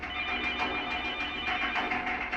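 A telephone rings continuously, a loud, steady electronic trill with a faint pulsing rhythm, close by, during the 2010 Arkansas flood.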